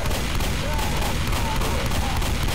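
Continuous loud gunfire in the co-op zombie shooter Left 4 Dead during a Tank fight, a dense unbroken barrage of shots with faint voice underneath.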